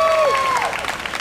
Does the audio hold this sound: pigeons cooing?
no